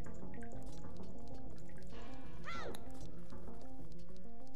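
Water being released in the video game Zelda Majora's Mask, a dripping, sloshing liquid effect with a sweeping rise near the middle, set within steady layered game music.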